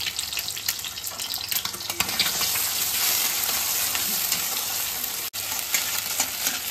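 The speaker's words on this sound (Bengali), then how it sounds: "তো আমি আগে ডিমটা ভেজে নেবো।" Egg frying in a pan with a little oil and a pinch of salt, a steady, loud, close hiss of sizzling that holds throughout with a brief dropout near the end.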